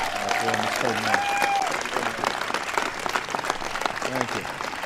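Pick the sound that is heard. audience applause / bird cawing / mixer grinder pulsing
audience applause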